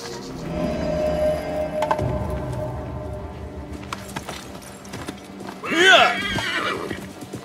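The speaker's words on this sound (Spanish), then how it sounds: "He preparado los caballos." Horses in Assassin's Creed Mirage clop their hooves and one gives a loud, close whinny near the end, set among ambient background and game voices talking.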